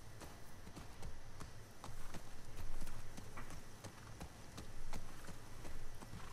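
Horse hooves clip-clop at a steady walking pace in the video game The Last of Us Part II, moderately close over a constant outdoor ambience.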